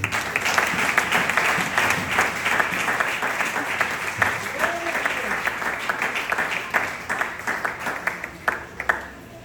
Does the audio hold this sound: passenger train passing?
no